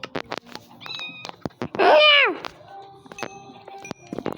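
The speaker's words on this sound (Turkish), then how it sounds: "Şu kedi minik." A cat meows once inside the Minecraft video game, a short rising-and-falling tonal cry standing out clearly amid scattered game clicks and footsteps, with no voices over it.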